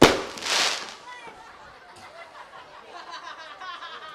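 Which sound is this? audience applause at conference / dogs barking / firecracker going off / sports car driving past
firecracker going off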